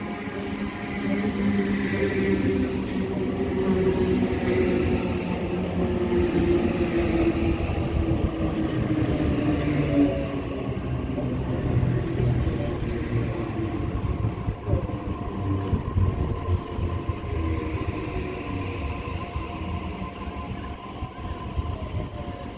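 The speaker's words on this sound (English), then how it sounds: "Alright, the train is now here. It is a Waratah A set." A Waratah A set electric train at a suburban station platform, a loud sustained rumble with rising and falling whine from the motors, carrying steadily throughout, no talking.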